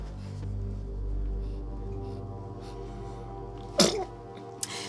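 A baby sneezes once, sharp and close, near the end of a quiet indoor moment in a telenovela scene, followed by a tiny second burst, over a low background hum.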